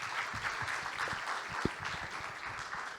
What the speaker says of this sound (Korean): 감사의 말씀으로 큰 박수 보내드리겠습니다.